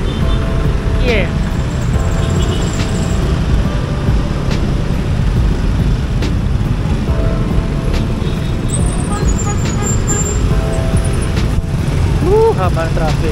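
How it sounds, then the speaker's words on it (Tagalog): A long traffic jam on Ortigas Extension heard from an e-bike: a continuous dense roar of cars, trucks and motorcycles close by, with scattered horn-like tones and brief squeals over the steady rumble. "Haba ng traffic."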